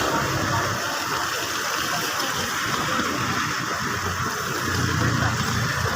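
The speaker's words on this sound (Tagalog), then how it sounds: "nagraragasa talaga ang tubig" Heavy floodwater rushing and gushing during relentless hard rain, with the torrent flowing near a newly built spillway and wall; a loud, continuous broadband roar fills all six seconds without a break.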